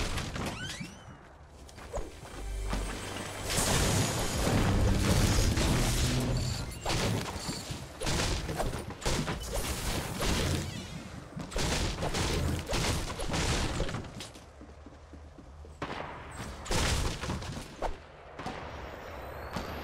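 Semi-automatic sniper rifle fire in Fortnite Battle Royale: repeated sharp cracks and heavy reports in irregular bursts, mixed with crashes and whooshes of in-game action, loud and dense throughout.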